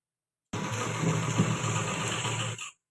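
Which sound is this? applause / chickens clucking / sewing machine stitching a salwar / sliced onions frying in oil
sewing machine stitching a salwar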